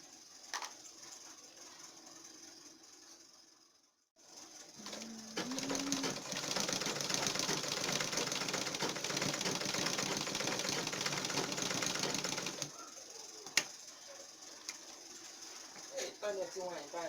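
A sewing machine stitches a long pencil skirt, running in one steady whirring burst of several seconds after a quiet pause, with softer handling noises before and after.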